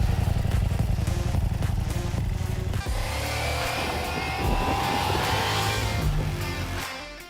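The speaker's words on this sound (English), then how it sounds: "The Ducati Diavel V4 is truly the devil's ride." A Ducati Diavel V4 motorcycle being ridden, its engine droning loud and close and then rising in a revving pull with wind rush, with no speech.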